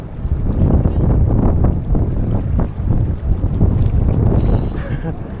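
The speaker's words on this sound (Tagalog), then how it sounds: "Medyo mahangin guys." Strong wind buffets the microphone in a constant low roar on the water during a barracuda harvest, with water sloshing and a brief hiss near the end; voices murmur faintly underneath.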